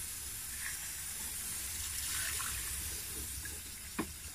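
Water sprays steadily over the engine bay of a Suzuki Every Wagon DA64W during an engine wash, a continuous close hiss with a brief tap near the end.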